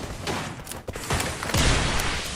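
Bursts of gunfire ring out in the Free Fire video game, several quick shots clustered together with sharper cracks near the end, fairly loud and without talk over them.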